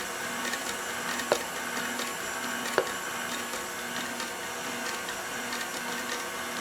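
An electric mixer whisking vegan dark chocolate brownie batter at low speed as cocoa powder is added, giving a steady close whirr with a couple of sharp knocks against the bowl.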